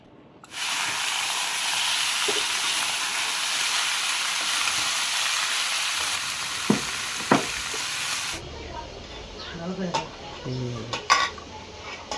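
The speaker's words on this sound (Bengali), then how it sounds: "আর ওই মাছের তেলেই আমি সবজিটা করব।" Vegetables sizzle loudly in leftover fish-frying oil in a home kitchen, a steady broadband hiss with occasional utensil clinks that cuts off about two-thirds through, leaving quieter scraping and stirring sounds.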